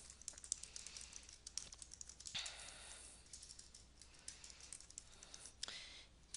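Close, quiet typing on a computer keyboard while a business block letter is entered: irregular runs of light key clicks with short pauses, plus a few sharper taps, and no talking.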